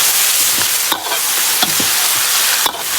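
Lamb trotters hit a wok of chili oil with doubanjiang and whole spices, sizzling loudly and steadily while a spatula scrapes and stirs them in a few sharp strokes.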